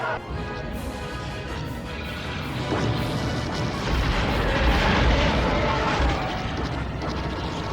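Blaster fire and explosions from a Star Wars space battle video game, a dense, loud, continuous barrage of crashing booms and rapid shots that swells slightly toward the middle, with no talking.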